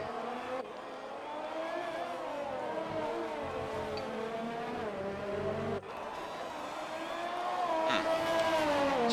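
Formula 1 race car on an out lap at the Mexico round of a racing game, its high engine whine climbing and dropping through gear changes, steady and prominent with a commentator talking over it.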